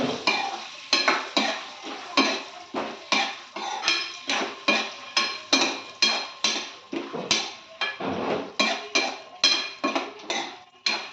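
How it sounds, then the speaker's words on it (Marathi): Chironji (charoli) nuts frying in a pan, stirred in a steady rhythm of close scraping strokes about twice a second over a light sizzle, with no voices. "गोळंबी पण तळून घेते."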